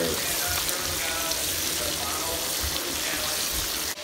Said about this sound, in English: Right now I got the chicken over here frying up.